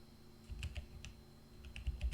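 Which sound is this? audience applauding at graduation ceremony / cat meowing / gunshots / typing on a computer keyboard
typing on a computer keyboard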